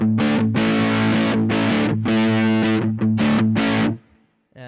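An electric guitar on its neck pickup, played through a Monoprice Mini Distortion Pedal at medium gain, rings out loud, fuzzy sustained chords and notes in a short bluesy phrase, then stops abruptly into near silence.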